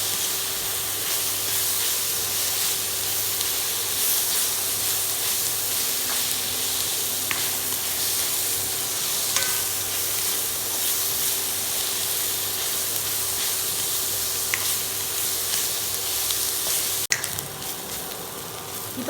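Onions sautéing in a pan for a Kerala-style fish fry, a continuous soft sizzle and hiss with occasional faint crackles, steady and close with no talking.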